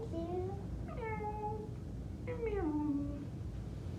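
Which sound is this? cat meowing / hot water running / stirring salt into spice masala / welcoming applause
cat meowing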